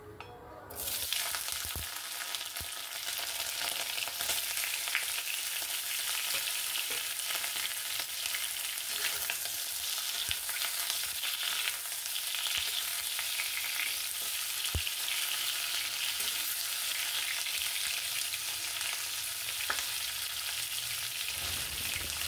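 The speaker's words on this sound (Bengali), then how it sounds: "কড়াতে তেল গরম হলে তাতে আস্তে আস্তে পনিরগুলো ছেড়ে দিতে হবে।" Paneer cubes frying in hot oil in a kadai, a steady, even sizzle that starts after a brief quiet moment and continues unbroken at moderate loudness, with occasional faint clinks and no talking.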